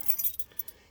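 A ring of car keys for a 2005 Toyota Corolla gives a short, close metallic jangle, a few light clinks that quickly fade into quiet.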